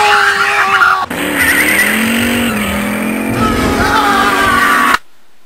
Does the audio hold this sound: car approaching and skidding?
yes